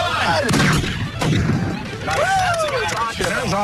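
An antique cannon is fired outdoors with a loud, booming blast that rolls into a long, noisy rumble, while people's voices and cheering carry over and after it.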